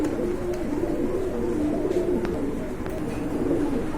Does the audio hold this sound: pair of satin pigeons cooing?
yes